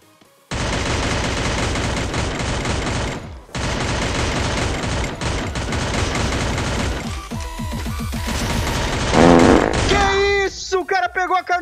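Rapid gunfire in the video game Free Fire, with a K98 rifle involved: dense, loud bursts of shots run almost continuously, break for a moment, resume, then thin out into scattered shots near the end.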